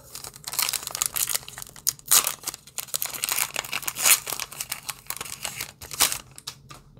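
A Pokémon trading card booster pack wrapper from the Chilling Reign set being torn open, with close, loud crinkling and tearing of foil in repeated bursts over several seconds and no talking.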